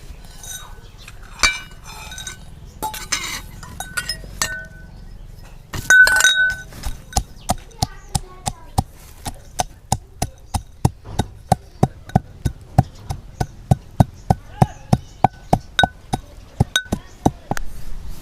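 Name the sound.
pounding peanuts and gathiya for drumstick curry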